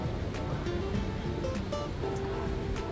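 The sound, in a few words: water at a park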